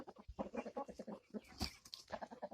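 Easter egger chickens cluck in quick, uneven bursts, faint but close, several birds overlapping in a low, busy chatter.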